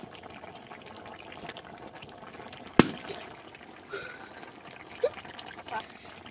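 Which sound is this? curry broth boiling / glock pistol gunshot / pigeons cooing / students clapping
curry broth boiling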